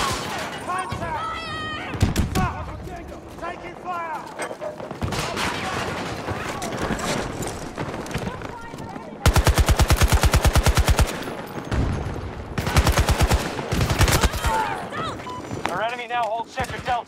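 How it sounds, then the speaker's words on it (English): Rapid automatic gunfire from a player's weapon in the Battlefield 2042 shooter game, loud bursts of close machine-gun fire with scattered distant shots, while players talk excitedly over the action. "Oh, I'm shooting."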